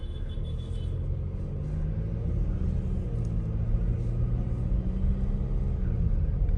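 An MG Gloster SUV rolls slowly forward on its own after the brake is released, giving a steady, low, continuous rumble of engine and road noise heard from inside the cabin, with no talking.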